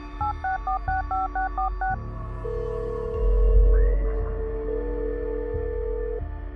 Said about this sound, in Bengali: তারপর দ্রুত তার সহকারী রিনিকে ফোন করল।